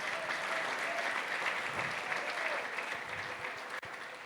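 A church congregation applauds the youth on a youth day service, steady and fairly quiet applause from many hands spread through the room, carrying on for several seconds.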